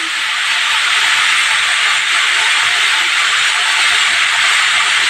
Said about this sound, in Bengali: এখন আমি দিয়ে দেবো হলুদ,